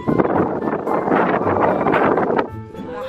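Strong wind on a mountain near Cebu City, Philippines, buffets and roars across the microphone in loud gusts, then drops abruptly to a calmer hiss near the end.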